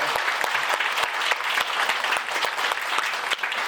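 An audience at a boxing press conference in a hotel applauds steadily throughout, a thick continuous patter of many hands with a few sharper claps standing out.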